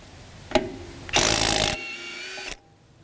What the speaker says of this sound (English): I can pop that on the cordless impact wrench and then do so very easily.